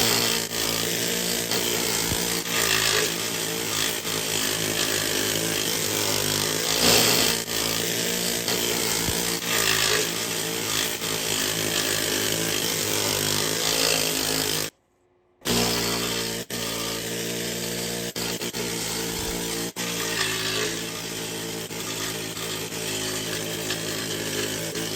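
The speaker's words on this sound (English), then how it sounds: "that is the underside of the Hilux now descaled, all the rust gone, all the loose dirt gone" A power tool scours rust and loose dirt from the underside of a Toyota Hilux, a continuous loud grinding rasp that runs for about fifteen seconds, stops for an instant, then resumes just as harsh to the end.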